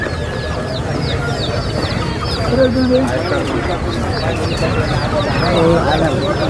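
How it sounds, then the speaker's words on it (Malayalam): Chickens cluck and squawk in a busy, noisy crowd at a livestock market in Kerala, with voices talking throughout and a dense market bustle underneath. "കോഴികൾ ഒരുപാടുണ്ട് കേട്ടോ ചന്തയിൽ"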